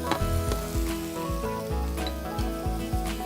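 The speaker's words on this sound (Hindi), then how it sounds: "हम ये एस्पैरागस इस बटर में डालेंगे। एक क्विक स्टर।" Asparagus pieces sizzle in hot butter during a quick stir in a home cooking show, a steady loud frying hiss broken by regular scraping strokes of the spoon, with no talk.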